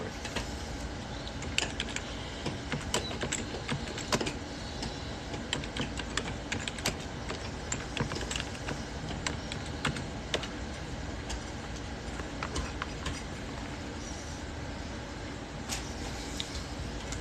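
Steady typing on a computer keyboard runs throughout, a dense stream of quick key clicks with occasional louder strokes, close and continuous with no talking.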